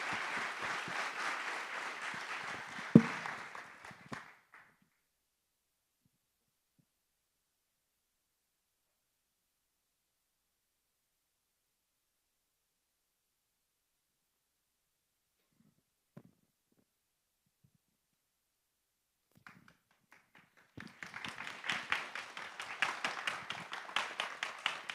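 Audience at a university AI hackathon closing ceremony claps briefly, the applause fading into near silence with a few faint taps, then a fresh burst of clapping swells up toward the end.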